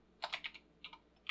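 Typing on a computer keyboard while entering code for a web form: a quick run of close, crisp key clicks, a short pause, then a few more taps, heard alone.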